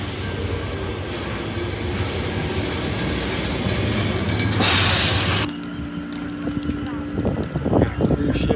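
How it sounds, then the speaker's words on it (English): A tram rumbles past nearby on a Lisbon street with a heavy mechanical roar and a brief hiss, then fades into street noise as people talk. "The tram's got to come towards us in order for us to go through."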